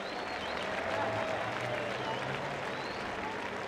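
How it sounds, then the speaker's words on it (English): Crowd cheering and applause at a Formula Drift Pro event in Long Beach, a dense, steady roar of many people that fills the whole stretch at even loudness. "Round of applause for Matt Field."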